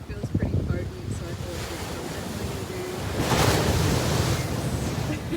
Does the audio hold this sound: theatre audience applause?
no